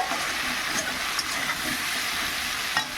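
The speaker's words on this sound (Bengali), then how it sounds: "এবার জল দিয়ে দেবো" Water poured into a large hot kadai hisses in a loud, continuous, even sizzle, with faint clinks in the background and no talking.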